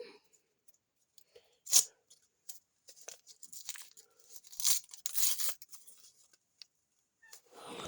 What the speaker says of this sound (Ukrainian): Попробуємо зняти скотч.